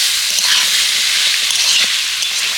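Potatoes and peanuts sautéing in spices in a pan while being cooked down for aloo puri: a steady, loud broadband sizzle and hiss with faint stirring clicks, continuous throughout.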